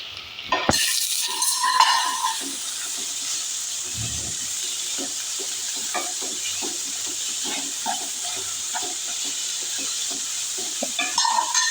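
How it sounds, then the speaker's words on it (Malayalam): Onion tipped into a pan of frying garlic and ginger for bonda filling: a hiss swells into a continuous sizzle, with soft stirring taps and scrapes scattered over it, close up and without speech. "അത് മൂത്ത് വന്നാൽ ഇപ്പോൾ വെളുത്തുള്ളി ഇഞ്ചി ഒന്ന് മൂത്ത് വന്നതിന് ശേഷം ഞാനിതാ ഉള്ളി ഇട്ട് കൊടുക്കുന്നുണ്ട്"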